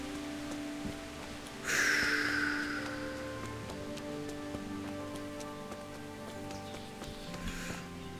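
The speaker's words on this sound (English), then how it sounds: "Oh, the rain is stopping." Steady rain patters in Kingdom Come: Deliverance, a continuous soft hiss of drops on surfaces with a brief louder swell early on, then settling into an even, moderate wash.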